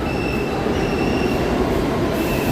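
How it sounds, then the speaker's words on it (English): A New York City subway train, a Brooklyn-bound D, rumbles loudly and steadily through a station, with a faint metallic squeal of wheels above the roar. "that train across the platform is the Brooklyn bound D."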